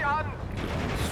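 Gunfire rattles in the Steel Division II war game: a brief burst of shots and rumble, close and fairly loud, with a voice talking over the start.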